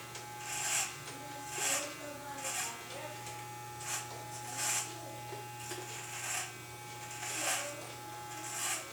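Electric hair clippers trimming hair on top of the head during a simple fade haircut, a constant low motor buzz with rhythmic brushing strokes recurring about once a second.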